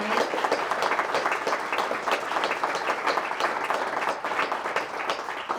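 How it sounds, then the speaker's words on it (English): A town hall audience applauds its speakers in a dense, steady wash of clapping that holds at full strength throughout, close and unbroken, with no talking over it. "can we have one more round of applause for all of our amazing speakers tonight?"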